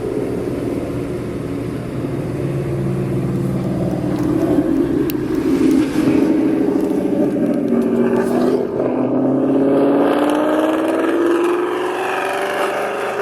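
A 2024 Ford Mustang Dark Horse with a 10R80 automatic transmission drives along, its engine droning loudly and continuously with rising and falling pitch as the gearbox hesitates, heard from inside without talk.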